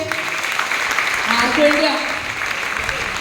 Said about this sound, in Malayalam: അപ്പൊ ഒന്ന് നല്ല കയ്യടി അടിച്ചേ